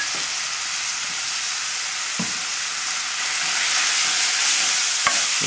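Himalayan red rice goes into a hot pan with garlic and vegetables and gets stirred, producing a steady close sizzle with a few soft scraping stirs and no talk.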